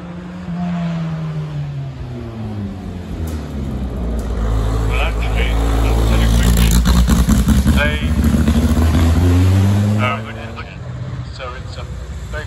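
Historic race car climbing the hill at the Prescott hill climb, a loud engine roaring nearby and rising in pitch through gears before fading slightly, with voices audible over it.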